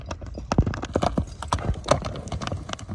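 A horse galloping over stony, rocky ground, its hooves striking in a fast irregular rhythm, close and loud, with faint background noise and no clear speech.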